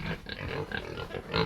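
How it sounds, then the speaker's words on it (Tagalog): Pigs on a farm grunt and snuffle in short, repeated bursts close by, a steady run of low oinks with no clear talk over them. "Oh, na baboy dire."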